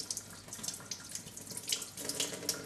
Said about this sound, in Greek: Τις πλένουμε καλά και να τις κόψουμε